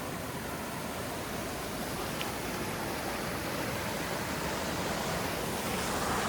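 Rushing water at a waterfall in rain, a steady dense roar of broadband noise that holds level for the whole stretch with no breaks, close and loud, with no voices over it.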